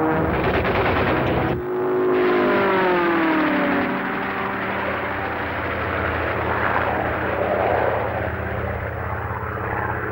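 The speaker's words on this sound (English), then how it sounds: "Designed by the same man, R.J. Mitchell, its Merlin engine was derived from the racing engines built by Rolls-Royce over a decade earlier." A Supermarine Spitfire fighter plane with a Rolls-Royce Merlin engine roars past loudly, its engine drone swelling and shifting in pitch as it passes, then settling into a sustained, fading rumble.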